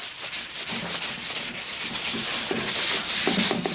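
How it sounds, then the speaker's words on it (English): Steady scratchy rubbing of fine sandpaper on a lacquer finish, strokes repeating back and forth in a quick rhythm, close and fairly loud, no voices. "We're just sanding off the tops of the mountains to make it flat."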